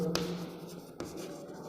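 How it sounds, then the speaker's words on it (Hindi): Pen or marker writing by hand while working a class 6 maths problem, soft scratchy strokes with a couple of light taps, faint and close, with no talk. "तो यहाँ पर मैं लिखता हूँ"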